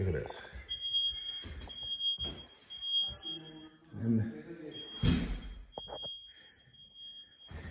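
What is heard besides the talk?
alarm system beeping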